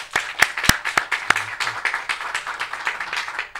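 A church congregation at a New Year's Day Mass applauds. A few loud close claps ring out at the start, then a softer, steady wash of clapping from the crowd follows for a few seconds.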